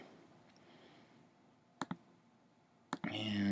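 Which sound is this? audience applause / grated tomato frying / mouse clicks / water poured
mouse clicks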